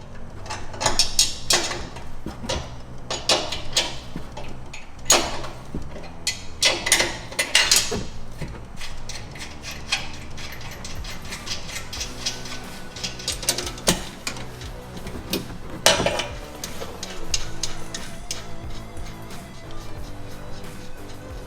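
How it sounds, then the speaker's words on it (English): A 17mm wrench works loose the three top nuts on a strut mount of a lifted 2015 Ford F-150, producing irregular metallic ratcheting clicks, clanks and taps in close bursts with brief pauses, without speech. "you're going to take that 17mm wrench and take these 3 top nuts off on the strut mount"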